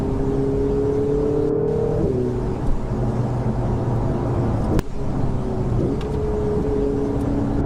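A Ferrari 488 GTB engine pulls hard under acceleration, its tone rising steadily and then dropping at quick gear changes before rising again, loud and close from inside the car, without talk.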